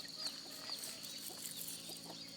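On a village farm in Thailand, hens and chicks cluck and peep steadily while they feed, faint, close and unbroken, with no voices.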